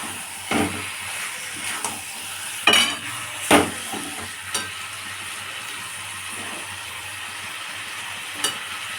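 Masala being sautéed in a pan over low gas: a steady soft sizzle runs throughout, broken by several sharp scrapes and clinks of a utensil stirring against the pan, close by, with no talking.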